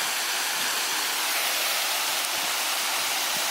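A creek on the Bruce Trail rushes steadily and loudly without a break, a dense hiss of flowing water with no voices.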